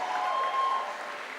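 An audience at a school district prize event claps in a brief, continuous burst, a steady wash of applause with a faint whistle-like tone running through it.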